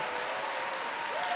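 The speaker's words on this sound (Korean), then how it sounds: "みんなで一緒にですね、拍手を送りたいと思います" Steady applause from a large audience at a Christian evangelistic gathering in Hyogo, a dense even roar of clapping throughout with no talk.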